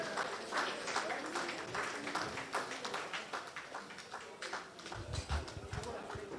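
Guests applaud at a reunion dinner, brisk rapid clapping from a hall full of people sustained throughout, with a voice briefly breaking through near the end.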